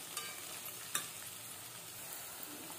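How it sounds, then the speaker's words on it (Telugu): Onions fry in a pan with oil for a tomato egg curry, giving a faint, steady sizzle and a couple of soft stirring knocks. "ఆనియన్స్ ఫ్రై అవుతూ ఉంటాయి"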